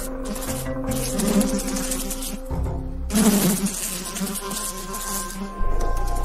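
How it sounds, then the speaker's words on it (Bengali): A dense swarm of flies buzzes loudly and close, its droning hum swelling and shifting as it briefly cuts out and returns, used as an effect in a spoken ghost story. "কুদ থেকে যেন লাখে লাখে মাছি এসে ছেঁকে ধরলো জায়গাটা।"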